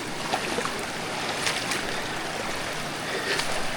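Clear river water at a swimming spot in Rumaragas, rushing steadily as a broad, continuous hiss and splash, close and moderately loud throughout with no voices.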